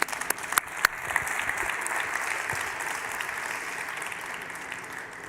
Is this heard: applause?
yes